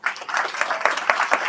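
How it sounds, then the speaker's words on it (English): An audience applauds a school drumline at an elementary academy event, a dense, steady wash of clapping with a few sharper bursts running through the short stretch. "Can we give them an applause?"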